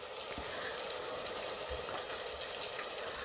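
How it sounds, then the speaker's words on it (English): Pepper mix frying in oil left over from frying fish, a steady low sizzle and bubbling that holds evenly throughout with no talk. "So I'm going to fry the pepper mix"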